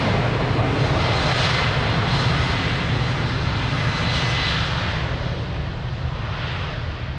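A passenger airplane takes off from runway 02 at Lisbon Airport, its engines giving a loud, steady, broadband roar that holds strong for the whole stretch with a low rumble beneath and no voices.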